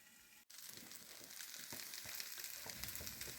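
Tomatoes frying in a pan give a steady close sizzle with light crackles after a momentary cut at the start, heard alone with no voices.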